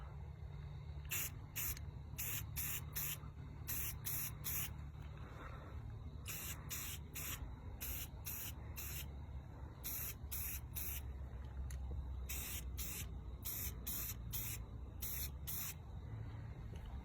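Aerosol spray can hissing in repeated short bursts onto arrows, each lasting about a second, with brief gaps between, over a low steady background rumble.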